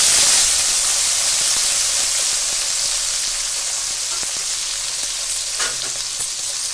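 Shallots and garlic dropped into hot oil with fenugreek and curry leaves give a loud, steady sizzle and crackle that slowly settles into a softer, even frying hiss, with no voices.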